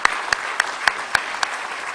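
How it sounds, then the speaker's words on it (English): Sparse, evenly spaced claps at a chamber of commerce leadership awards event, each one a distinct sharp crack against a faint background of quieter clapping. "So would you please give a round of applause to Brian Walsh."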